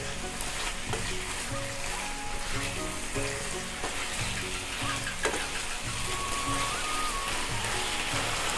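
Chicken pieces frying on high heat for chicken rezala, a loud, steady hiss and crackle of hot oil with occasional scrapes as the meat is turned in the pan.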